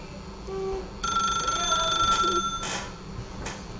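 A telephone ringing in The Stanley Parable, a bright electronic trill lasting about a second and a half at moderate volume, with faint talk and a couple of short clicks around it.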